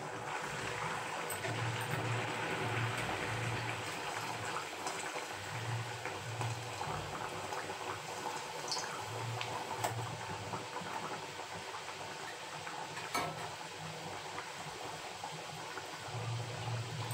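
Mung dal and besan kachori deep-frying in warm oil gives a steady, dense bubbling and crackling hiss that runs close and unbroken throughout, with no voices.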